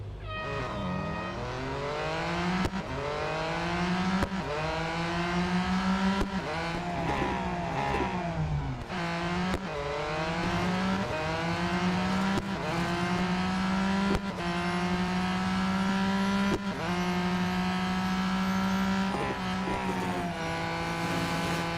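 A race car in the Real Racing 3 mobile racing game drives with a loud, steady engine whine that climbs in pitch through each gear and drops back at every shift, heard alone and continuous.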